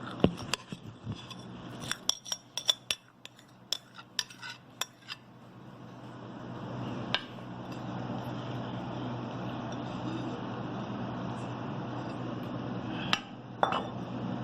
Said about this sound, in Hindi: मैं ये आटा गूंद के ये सब कुछ मिक्स करने लगी हूँ